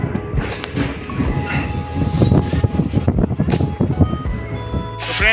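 A DMU train pulls out of a station in Assam, its diesel engine rumbling low while wheels clatter and squeal in a steady, building rhythm, loud and close throughout.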